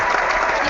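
A brief burst of loud, dense clapping from a small group during an airline staff English class, with no pause in it.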